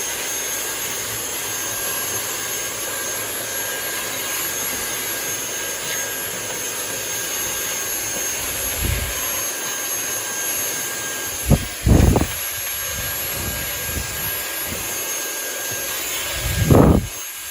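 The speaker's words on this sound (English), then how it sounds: "using a vacuum to vacuum up dirt out of the sink" A vacuum cleaner drones steadily while sucking loose dirt out of a sink, a constant whine with a few brief louder gulps and rattles as debris is pulled in near the end.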